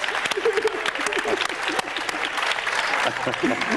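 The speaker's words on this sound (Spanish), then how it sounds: "Un aplauso para él, muchísimas gracias." A conference audience applauds with brisk, crackling claps, while a few voices and a higher tone come through the clapping.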